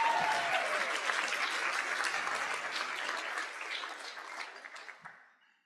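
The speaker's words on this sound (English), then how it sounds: "please applaud" A banquet audience at a candlelight awards dinner applauds in a dense, steady wash of clapping that holds for several seconds, then gradually thins and fades out.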